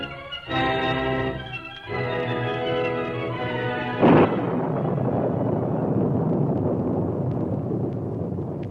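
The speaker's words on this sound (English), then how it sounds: "Rain fell in torrents, and the wind howled across the desolate countryside." A sharp thunderclap crashes midway, followed by a steady roar of heavy rain and wind, with tonal music in the opening seconds.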